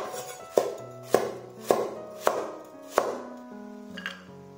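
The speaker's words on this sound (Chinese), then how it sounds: "准备半个胡萝卜切片" A knife slices half a carrot on a chopping board, giving six crisp, evenly spaced cuts about half a second apart, close and fairly quiet, with a softer final stroke.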